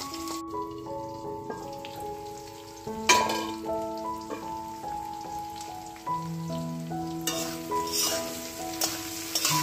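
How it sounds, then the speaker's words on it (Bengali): Potato pieces fry in a pan for a spicy eggplant and lentil-dumpling dish, giving a steady sizzle and crackle under prominent background music across the whole stretch. "দেখো আমার একদম আলুটা দারুণভাবে ভাজাও হয়ে গেছে"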